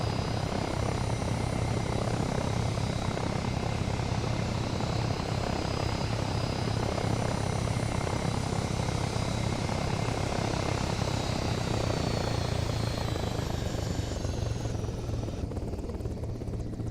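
Helicopter landing in Arma Reforger, a continuous loud rotor and turbine drone with a steady engine whine that holds throughout and begins to fade and lower in pitch near the end.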